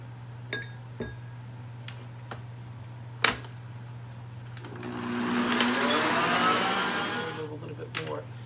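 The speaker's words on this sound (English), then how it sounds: "And I'm going to mix these up in here." Electric mixer beating melted butter, granulated sugar and brown sugar for a sweet potato pie, a steady whirring drone that swells for about three seconds midway, with clinks and taps around it and a constant low hum.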